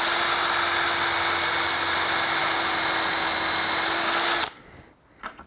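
A power drill whines steadily at high speed for several seconds drilling into a wooden roll-out shelf front, then stops abruptly, leaving a few faint clicks.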